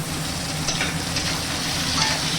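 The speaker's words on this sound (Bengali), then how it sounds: "পেঁয়াজ আর টমেটোটা ভাজা হয়ে গেছে" Steady sizzling of onion and tomato frying in a pan, a continuous crackling hiss with faint stirring, close and fairly loud, no voices.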